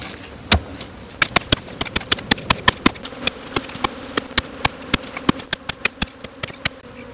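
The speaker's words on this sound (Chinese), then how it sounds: "太多蜜蜂出来了。" Wild honeybees swarm around a freshly dug-out ground nest on an earthen slope, a steady close buzz with many sharp, rapid ticks and taps of bees striking nearby, and no talk.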